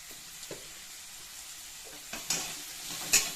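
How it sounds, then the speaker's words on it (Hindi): Besan and tomatoes fry in a pan with a little hing, giving a soft, steady sizzle broken by a few light clinks and scrapes of stirring. "तो ये मैं इतना अच्छी तरह से इसको फ्राई करके पका लूँगी"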